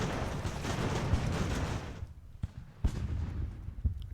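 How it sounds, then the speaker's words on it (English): Cannon fire in Ultimate Admiral: Age of Sail at the Battle of Bunker Hill: a dense, rumbling barrage that cuts off, followed by a few sharp separate booms against quieter battle ambience. "Well, the cannon had some ammunition left."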